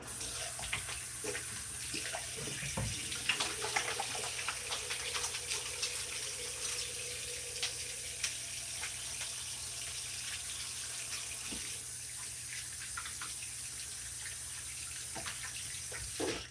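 A bathroom tap runs steadily for face washing, a continuous close splashing stream of water into a sink that lasts the whole stretch without pause, with no voices over it.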